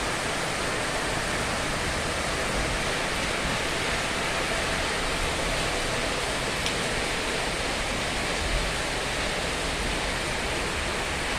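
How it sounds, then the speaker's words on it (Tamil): Heavy rain pours down in Theni, India, a steady, dense hiss that holds at an even loudness for the whole stretch with no voices over it. "மழையை பார்த்து என்ஜாய் பண்ணுங்க."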